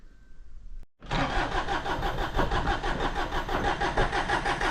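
A 3-cylinder diesel tractor engine cranks over and catches without glow plugs after a short pause, then settles into a loud, steady, close-up rumbling idle.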